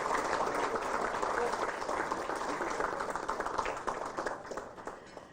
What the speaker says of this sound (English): please keep applauding for them